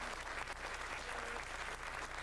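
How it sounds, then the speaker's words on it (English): An audience at a Calgary IBM Ring 66 Valentine's Day brunch applauds a magic performer in a brief, steady burst of clapping from a room full of people. "Give it up for Donovan Deschner."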